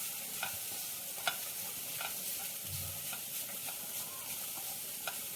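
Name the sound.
grated carrots sautéing in ghee while stirring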